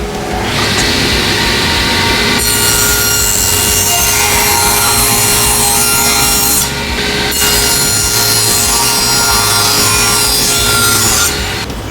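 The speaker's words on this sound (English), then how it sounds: "we're going to trim them down to 4 3/4 on the table saw" Table saw ripping 18-inch wooden pieces down to 4 3/4 inches, a loud continuous whining cut that runs for most of the time, with a brief pause partway through before the blade bites into the wood again.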